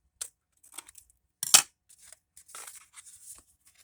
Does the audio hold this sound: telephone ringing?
no